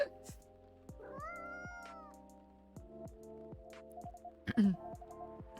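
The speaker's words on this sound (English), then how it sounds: "I'm glad they're doing the meows for me." Cat meows in the video game Coffee Talk 2, a few short mews over a steady bed of game music with a rhythmic beat, fairly close but modest in level.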